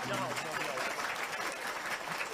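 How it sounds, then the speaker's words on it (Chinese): A crowd at a children's gala event attended by Vice President Lai Ching-te gives dense, continuous clapping that stays steady across the moment, with voices faintly mixed in. "我们给他一个掌声好不好？"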